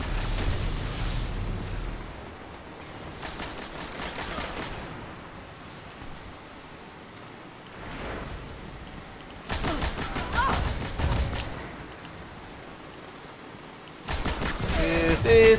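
Bursts of automatic gunfire from a Destiny Crucible PvP match, several separate volleys of rapid shots with quieter gaps between them, loud and close.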